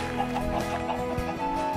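Minecraft chickens cluck in a short run of repeated game-style clucks over a steady, busy background, with no voices.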